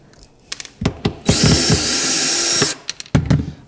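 Power drill driving 1.25 inch screws into a wooden dovetailed box, with loud close clicks and knocks followed by a steady whirring burst of over a second as the screw goes in, then more handling taps.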